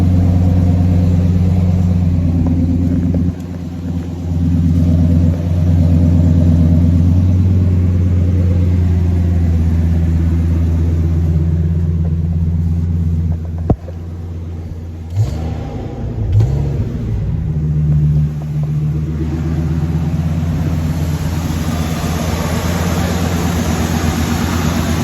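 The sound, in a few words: car cold start idling with MBRS exhaust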